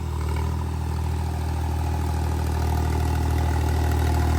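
A John Deere tractor engine idles in a steady, low rumble, continuous with a faint mechanical clatter, close and unchanging throughout, with no voices.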